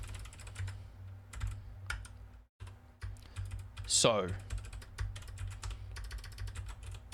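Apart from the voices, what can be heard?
typing on a computer keyboard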